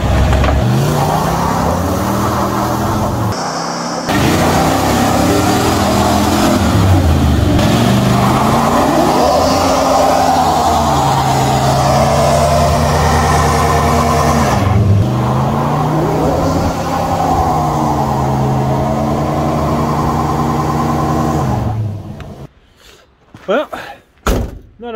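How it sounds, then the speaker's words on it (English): A 1984 Ford F-150 revs hard during a burnout, its loud engine roar rising and falling in sustained pulls for about twenty seconds before cutting off into scattered clatter and knocks. "time for the first burnout"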